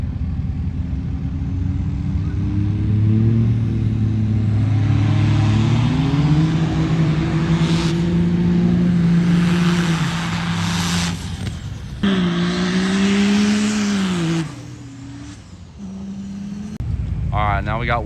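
A race car runs on a drag strip at a chassis dyno record event, its engine droning loud and steady with rising and falling revs and brief drops, under a busy background and likely some talk.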